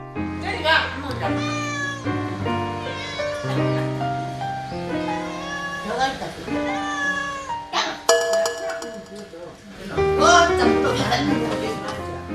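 A cat meows repeatedly in a string of drawn-out, wavering cries close by, with people talking over and between them.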